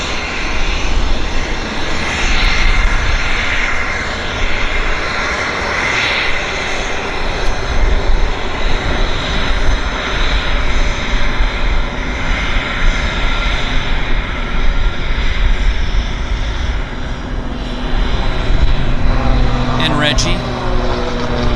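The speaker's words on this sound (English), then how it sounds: "But first we got a Bizjet." A business jet at Vancouver International Airport (YVR) gives a loud, continuous engine roar that holds steady at close range for the whole stretch, with a faint tonal whine near the end.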